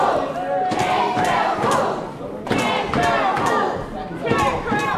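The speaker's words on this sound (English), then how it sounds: "This crowd chanting Cantrell rules." Wrestling crowd chanting for Cantrell in rhythmic bursts, loud and close with a roomy echo, the repeated chant broken by short pauses and thuds from the ring.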